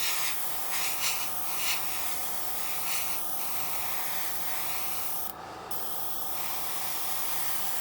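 Spray paint hisses steadily from an aerosol can onto a 1957 Revell XSL-01 plastic space ship model kit in light passes, a close, continuous soft spray with slight pulses and a brief pause near the end.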